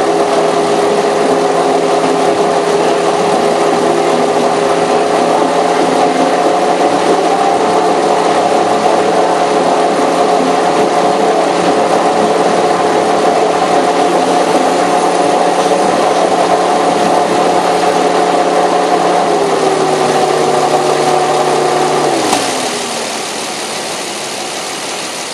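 A 2004 sixth-generation Nissan Maxima Nismo idles loudly and evenly with a steady hum for over twenty seconds, then its note sags and dies away as the engine shuts off.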